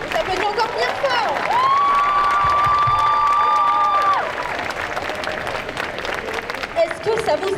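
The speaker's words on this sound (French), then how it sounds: "Est-ce qu'on peut encore avoir un bon tour d'applaudissements?" Audience applause and cheering at a cosplay show during a geek convention, broad crowd noise filling the space with a sustained whistle or shout rising above it midway, fading slightly toward the end.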